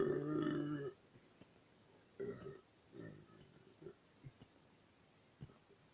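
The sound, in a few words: burping after drinking root beer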